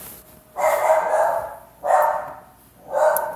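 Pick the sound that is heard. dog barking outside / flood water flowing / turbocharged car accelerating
dog barking outside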